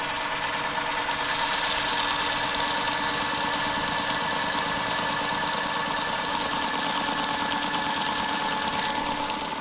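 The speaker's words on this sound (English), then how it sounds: "This here is this little small electric motor that down this central tube has magnets attached to a shaft that spin around." A small electric motor spins a magnet shaft inside a tube on a gold separator, giving a loud, steady whirring hum with a constant mechanical vibration throughout.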